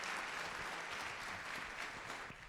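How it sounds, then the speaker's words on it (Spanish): Faint, distant applause from a conference audience after a medical talk, a dense steady wash of clapping lasting the whole short stretch. "les pido un fuerte aplauso"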